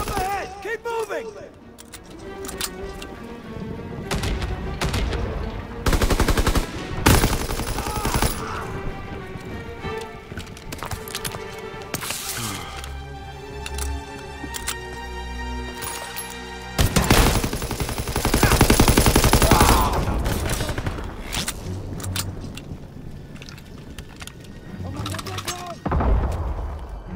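Gunfire from a World War II battle in the Call of Duty WWII video game, with bursts of rifle and machine-gun shots and loud explosive blasts mixed with shouted in-game voices and orchestral score.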